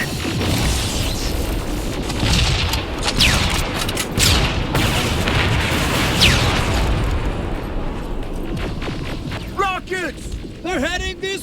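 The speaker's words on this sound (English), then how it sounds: "Rockets! They're heading this way!" Loud, rolling rocket explosions and booms crowd the scene in the Terminator Resistance shooter, one blast after another with whooshing streaks, ending in chirpy electronic tones, and voices shouting through the chaos.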